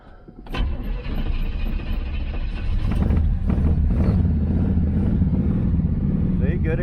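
A 1981 Chevrolet Camaro Z28 V8 with a manual fuel pump cranks briefly, then catches and settles into a loud, steady, close-up idle that continues to the end.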